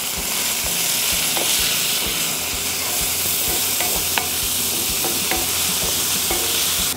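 Garlic sizzles and crackles in hot oil in a pan, likely alongside onion and celery, with steady frying hiss and repeated scrapes and clicks of stirring throughout, close and fairly loud with no talking.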